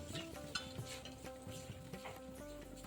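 A ground masala paste of dry coconut, garlic, ginger, coriander and onion sautés quietly in a pan, giving a faint sizzle with soft stirring scrapes and light utensil clinks throughout.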